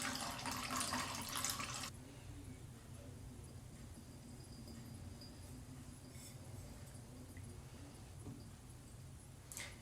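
Water kefir poured through a double strainer, a brief splashing pour at the start followed by a faint trickle and drip into the container below, quiet and close.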